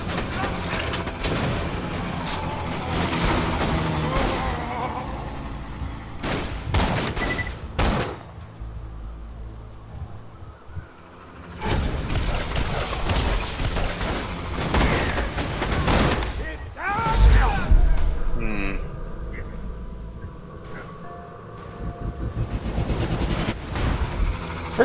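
Sniper gunfire in Borderlands 2 cracks out as several separate loud shots spread across the stretch, amid other game effects with a voice now and then.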